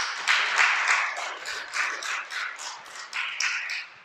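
A church congregation applauds during a sermon, with several seconds of moderately loud clapping that comes in rhythmic, pulsing bursts before it tapers off.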